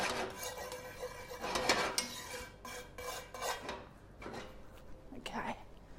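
Salt being stirred in a hot cast iron pan, giving soft intermittent scraping and rasping strokes with light metallic clinks, fairly faint and close, with no talk over it.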